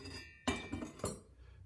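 A metal washer set down onto the nut of an old, worn-out saw blade: three quiet, separate metallic clinks spread over under two seconds in a hushed room.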